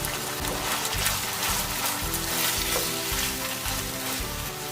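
Chopped onion and carrot with green chillies sizzle steadily in a hot pan for a street-style veg hot dog filling, a continuous close frying hiss with no talk.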